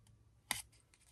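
Scissors or a blade cutting a diagonal through scored craft paper, a single brief crisp snip, close and quiet, with near silence around it.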